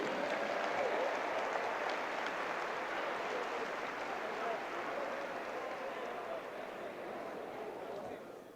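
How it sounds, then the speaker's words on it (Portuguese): Sustained, dense applause from a church congregation at an evangelical conference, honoring a beloved elder; steady and fairly loud throughout, tapering slightly near the end. "uma salva de palmas para o nosso querido irmão ancião"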